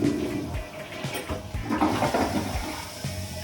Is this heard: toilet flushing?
yes